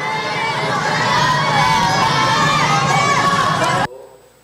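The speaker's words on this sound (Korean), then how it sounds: "창가로 모여 구호를 외치기 시작합니다" Elementary school children gather at classroom windows across from a courthouse in Gwangju. They shout slogans together in a loud, dense crowd roar that holds steady for several seconds and then cuts off abruptly.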